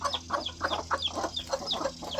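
Chickens clucking up close in quick repeated short calls, several birds overlapping in a busy rhythmic chatter over faint background hum.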